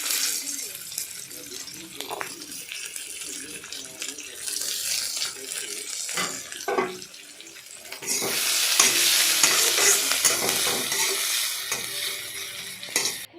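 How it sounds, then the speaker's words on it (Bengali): Tomato, onion and garlic frying in a pan make a steady sizzle with stirring scrapes. The sizzle swells louder partway through, and someone talks intermittently over it. "এইবার টমেটো, পেঁয়াজ আর রসুনটাকে ভালো করে ভেজে নিলাম।"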